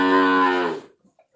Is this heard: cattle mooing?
yes